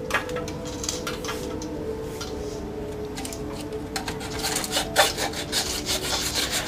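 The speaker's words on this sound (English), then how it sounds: "you're going to be doing a lot of filing" A file rasps steadily back and forth across a plastic model kit part, giving a continuous close scraping texture. Toward the end the strokes grow slightly louder and more distinct.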